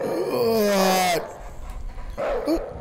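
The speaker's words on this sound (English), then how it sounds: "it's the dog with the human head" A dog-like creature with a human head barks and whimpers in a scary video game, a few loud yelps and growls close by, alongside a voice.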